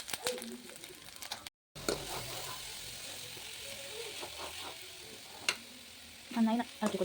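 Coconut, sugar, cashews and cardamom sizzle steadily in hot ghee, a soft continuous frying hiss broken by scraping stirs and a few louder clinks near the end, with a voice speaking at times.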